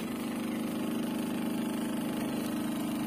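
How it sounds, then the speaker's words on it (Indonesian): The blower motor of a Miyako water dispenser runs with a steady, close, even hum and a faint rapid pulsing throughout, with no pauses or speech. "ini untuk dinamo blowernya di sini berfungsi ya teman-teman"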